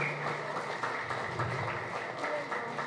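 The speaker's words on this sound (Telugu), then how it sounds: "తెలంగాణ అందరికీ వినిపించాలండి మన లాఫ్టర్ క్లబ్ చప్పట్లు." A laughter club group in Telangana claps together in a steady, continuous burst of applause, moderately loud and sustained throughout, with no clear talk over it.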